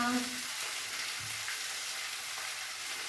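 Chopped vegetables frying in hot oil, a steady broadband sizzle that holds evenly throughout, close and fairly loud with a brief low murmur near the start.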